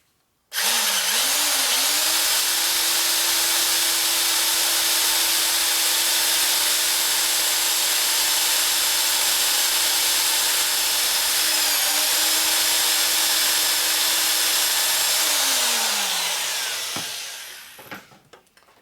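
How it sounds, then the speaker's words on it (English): A power drill machines the cylinder head of a 1993 Harley-Davidson Evolution 80ci engine for a compression release, running loud and close in one long continuous whine, dipping briefly before winding down at the end. "Just hold it with your foot like this. And drill accordingly."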